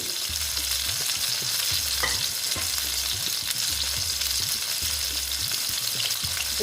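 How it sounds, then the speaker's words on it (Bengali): Four eggplant pieces fry in hot oil for a Bengali begun bahar, producing a constant, close crackling sizzle with soft low thumps and occasional scrapes as they are moved in the pan. "ভালো মতন ভেজে নিতে লাগবে সেই জন্য আমি কম করেই দিলাম একসঙ্গে দিলাম না আস্তে আস্তে এটা ভাজা হোক"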